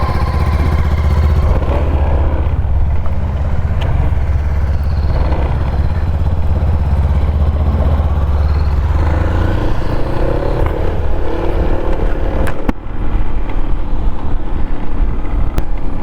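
Motorcycles ride together on a road, their engines a steady, loud drone mixed with wind rush and rumble that shifts slightly in pitch partway through, with no talking.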